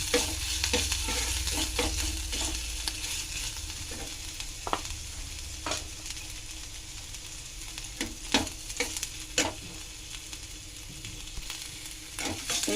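Water lily stems cooking in mustard oil left from frying a hilsa head, a low continuous sizzle broken by scattered sharp crackles and clinks of stirring, steady and close with no voices.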